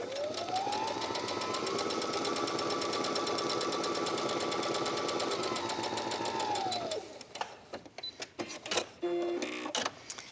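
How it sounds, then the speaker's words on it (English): A sewing machine stitching quilting fabric for a tablet cover runs steadily for about seven seconds with a humming motor and fast needle chatter, then stops and gives way to a few scattered clicks and handling noises. "then you continue to sew around"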